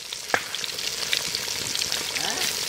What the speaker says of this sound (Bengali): ডিম ভাজা, আলু ভাজা হয়ে গেল